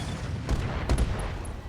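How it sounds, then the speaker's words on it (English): In the BattleTech video game RogueTech, an LRM ammo explosion sounds as two short, heavy booms a fraction of a second apart over a low rumbling battle background. "LRM ammo explosion there"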